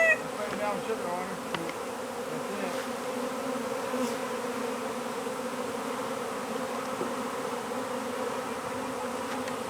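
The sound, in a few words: swarm of bees buzzing around a beehive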